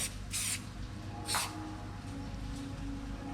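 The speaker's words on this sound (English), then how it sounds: "Give it a light spray of oil." A few quick hissing bursts from a cooking oil spray, lightly coating a surface so food won't stick, close and fairly soft, over a low background hum.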